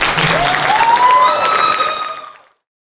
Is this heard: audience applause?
yes